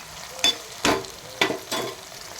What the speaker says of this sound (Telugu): అల్లం ఎల్లిగడ్డ వేసుకోవాలి. ఇట్లా